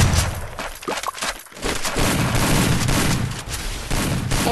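SG Reaper shotgun blasts in the Free Fire battle game, loud and close, repeated in quick succession over a dense, continuous wash of gameplay noise.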